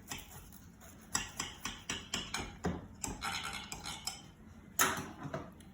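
A knife cuts a slice of baked chicken cordon bleu with a crispy croissant crust, producing a quiet series of crunchy cuts and repeated light taps on a plate, ending in a sharper clack.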